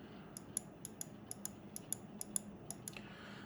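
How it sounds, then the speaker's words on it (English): Left button of a Fantech Hero UX1 gaming mouse clicks about a dozen times in irregular succession, each a crisp, sharp tick, close and fairly quiet over a faint room hiss, with no voices. "Let's do a left click button test."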